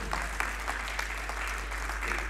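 An audience at a Lions Clubs Gujranwala get-together applauds for DG Lion Ashiq Ali Bajwa, a continuous wash of hand clapping at moderate volume over a steady low hum, with no one speaking.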